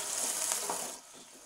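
Onions fry in a pan for a chicken chana dish, a close, steady hiss of sizzling oil that quiets toward the end.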